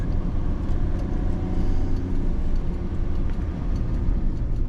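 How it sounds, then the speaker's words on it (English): Mint-condition single-owner Mercedes Fintail pulling away from a standstill in second gear, a steady low engine drone with road noise, close and continuous, without speech. "That's a second gear start."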